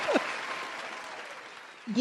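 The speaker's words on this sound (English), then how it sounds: "play some applause for that" Canned applause sound effect dropped into a basketball podcast, a continuous clapping crowd at even level that fades slightly toward the end, with brief bits of a host's voice at the start and close.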